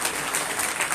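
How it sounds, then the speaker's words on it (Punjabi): Brief burst of clapping from a church congregation celebrating a healed girl at a Sunday village service: dense, steady applause from many hands, close and lively, with no voices over it. "ਐਤਵਾਰ ਨੂੰ ਤਾਲੀਆਂ ਵਜਾਵਾਂਗੇ ਬੱਚੀ"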